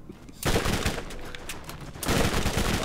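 Loud, sustained automatic SMG fire from Borderlands rattles in dense rapid bursts, starting abruptly after a brief quiet lead-in and surging again near the end.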